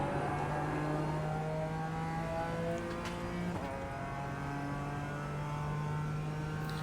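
BMW M4 GT4 race car in iRacing at Watkins Glen pulling hard at full throttle out of a corner, a steady loud engine drone with rising harmonic pitch and a brief gear-change dip midway.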